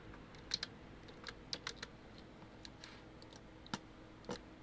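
Keys on a computer keyboard are typed in short, irregular clusters of light clicks, quiet and close, with no voices.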